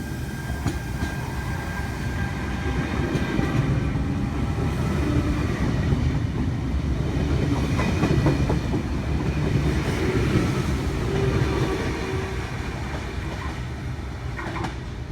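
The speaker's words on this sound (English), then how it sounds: "V32 is just about to depart platform number 2 for a Sydney Terminal service" Sydney Trains set V32 departs platform 2 at Penrith, its steady, loud rumble and rolling wheel noise building and holding close by for the whole stretch, with faint squeals and clicks and no talking.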